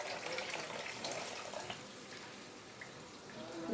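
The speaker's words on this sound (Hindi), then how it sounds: "अब थोड़ा सा पानी और शामिल कर दूंगी मैं" Water pours from a jug into a pot of fish korma, a steady broadband splash and trickle lasting a few seconds, fairly close and moderate in level.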